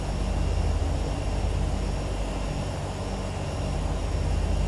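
A Turbine Duke aircraft in a flight simulator game taxis with its turboprop engine running, a loud, constant whine and roar that holds steady throughout.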